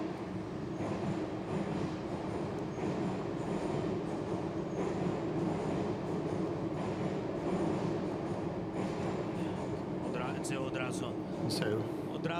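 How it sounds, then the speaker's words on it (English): A subway train rumbles through a metro station with a steady, loud rolling drone and rail noise, with high wheel squeals toward the end and faint voices in the background. "so let's listen to the subway."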